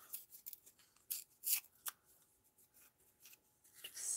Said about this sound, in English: We tear the tag in half.